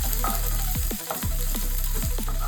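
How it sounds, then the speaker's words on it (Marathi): Onion sautés in hot oil for a dried ribbon fish curry, a loud, steady close sizzle with several quick scraping stirs of a spoon through the pan. "आता मी टाकणार आहे कांदा चांगलं परतवा"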